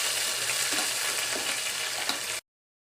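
Whole spices and mint leaves roast in hot oil in a pan with a steady, close sizzle and a few light stirring scrapes, then the sound cuts off abruptly.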